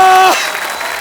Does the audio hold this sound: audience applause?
yes